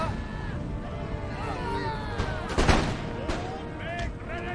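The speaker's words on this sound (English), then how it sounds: "Canister shot. Gunboat fire. Fire." Cannon and musket fire from canister shot and gunboat guns in the Empire: Total War strategy game, with scattered loud booms over a steady battle din and a strong blast near the middle. Voices and crowd noise run underneath.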